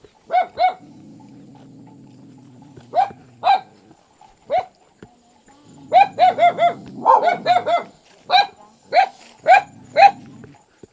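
A dog barks repeatedly in a rural forest setting near a stilt house, sharp close yaps in pairs and clusters with gaps between, over a low steady engine-like hum in places.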